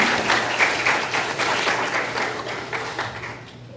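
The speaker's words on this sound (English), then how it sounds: "Give yourself a round of applause if you're in the UIL." An audience at a school theater ceremony applauds, steady dense clapping close by that holds and then slowly fades toward the end.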